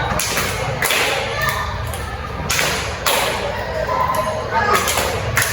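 A group in an Indonesian group-counselling session rehearses clapping together, with several loud, sharp bursts of hand claps in a loose rhythm. People talk between and under the claps.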